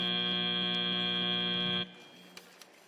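A loud, steady electronic match-end buzzer at a Minnesota state robotics competition (Power Play season) sounds for almost two seconds, then cuts off abruptly, leaving faint arena background and a couple of soft clicks.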